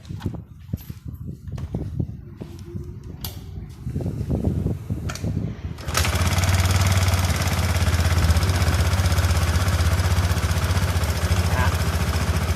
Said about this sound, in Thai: ผมขอญาตไปติดเครื่อง